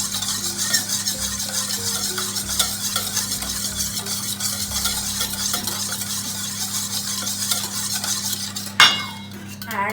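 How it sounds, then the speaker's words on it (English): Whole wheat mango cake batter whisked briskly in a bowl with vanilla essence, a steady close scraping and tapping of the whisk against the bowl that runs for several seconds, ending in a sharper clatter. "Give it a whisk."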